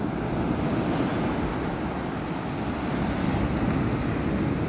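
Ocean waves on a beach, a continuous broadband wash of surf mixed with wind, steady and fairly loud with no voices.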